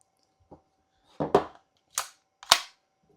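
A toy blaster fires four sharp, dry pops: one small snap, then a quick double crack and two more spaced shots, all close and fairly quiet with no talking.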